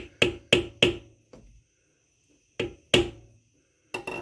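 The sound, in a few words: hammer striking a screwdriver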